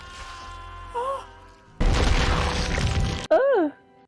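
A gory explosion effect from the 1998 film Blade, a loud sustained burst of noise lasting over a second, framed by brief vocal groans before and after.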